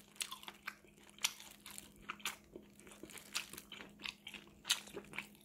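Someone bites and chews an Angry Frank sausage close up: a run of quiet crunching bites and soft chewing noises at an irregular rhythm, with no talking.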